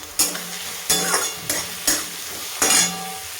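Tomato, onion and spices frying for pomfret curry, the sizzle swelling with five distinct stirring strokes of a spatula against the pan.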